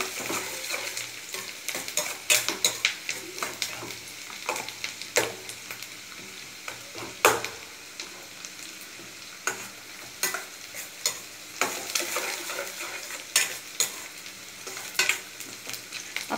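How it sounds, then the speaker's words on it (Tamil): Onions sauté in a pan under a constant sizzle, with a spatula stirring and scraping in irregular clinks and taps near the listener. "ஆனியன் நல்ல ப்ரௌன் கலர் ஆகிற வரைக்கும் நம்ம வணக்கணுங்க."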